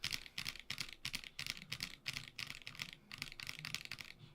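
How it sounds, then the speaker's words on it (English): Fast, heavy typing on a mechanical keyboard fitted with Glorious Lynx switches gives a steady, quiet clatter of keystrokes with rhythmic bursts and no speech. "And that's me hitting the keys pretty hard. I'm pretty much slamming on the keys."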